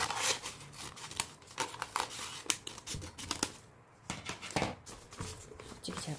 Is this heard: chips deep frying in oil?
no